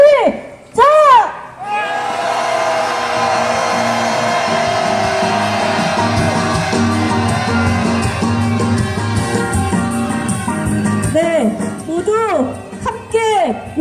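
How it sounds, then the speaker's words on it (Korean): Protesters at a candlelight march to Gwanghwamun Square raise a loud, sustained collective shout that holds for about ten seconds, with a lone voice leading in before it and brief calls after. "우리의 모두 바람을 담아서 힘찬 함성 함께 외쳐보도록 하겠습니다."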